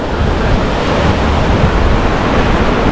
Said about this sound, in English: looks as though the ocean's on its way out here kiddies, very calm ocean